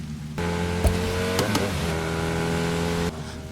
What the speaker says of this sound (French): Je reconnais ce pot d'échappement.